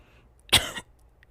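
A single short cough from a young woman, one loud burst lasting about a quarter second in an otherwise quiet setting, with no talk around it.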